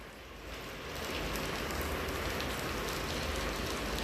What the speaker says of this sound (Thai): บ้านผมบ้านของผมฝนตกแล้วนะครับ